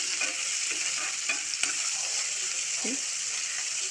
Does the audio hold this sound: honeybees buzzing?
no